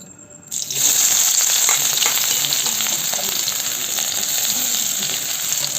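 Green chili, onion and tomato hitting hot oil together, quiet at first, then a sudden loud sizzle that swells and holds as a steady, close frying hiss.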